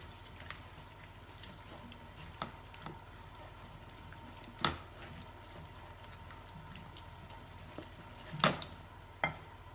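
Batter being stirred gently in a bowl for a fish recipe, a faint soft swirl with occasional clicks and taps of the utensil against the sides, quiet and close with no talk.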